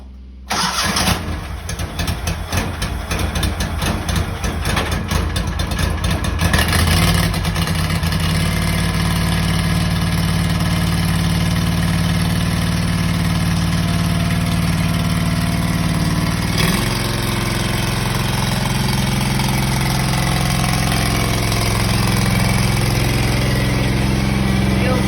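A Cub Cadet 782 garden tractor with a broken choke cranks with a few rough bursts, then catches and settles into a steady, loud idle that runs on close by.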